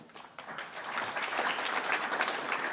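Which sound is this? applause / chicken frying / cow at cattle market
applause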